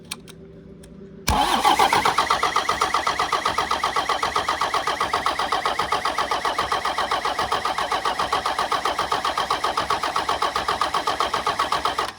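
An old Dodge car engine cranking and trying to start, a sudden loud starter whir followed by a long, steady rhythmic churning of rapid pulses up close that never catches.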